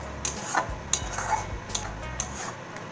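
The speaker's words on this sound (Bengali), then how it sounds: "খুব সুন্দর করে মশলার সাথে এটাকে আমি মিশিয়ে নেব।" Sour curd is stirred together with spices for doi katla, with a utensil clinking against a pan or bowl. The taps are soft, scattered and fairly quiet, with low dull thuds between them.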